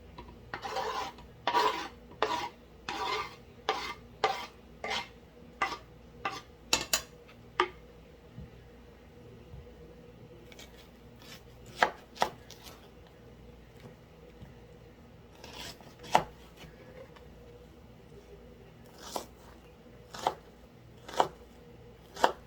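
Onions chopped with a knife on a cutting board, a series of sharp, fairly close chops that come in quick bursts early on and then spread out into scattered single strokes, with no talking.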